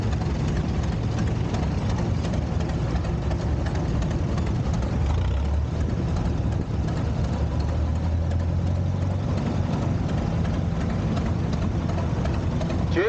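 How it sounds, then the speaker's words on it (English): A 1930 Allis-Chalmers Model U tractor runs past at an outdoor tractor show, giving a constant low engine rumble with a slight pitch shift midway, steady and unbroken with no voices. "Mike Secord coming along here with a 1930 Allis-Chalmers Model U."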